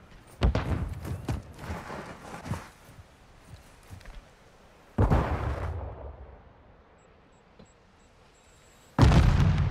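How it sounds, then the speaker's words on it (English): A stun grenade goes off in a Call of Duty: Modern Warfare II team deathmatch, two sharp, loud booms some seconds apart, each with a short decaying tail, after a scatter of lighter thuds and footstep-like taps. "Stun grenade out!"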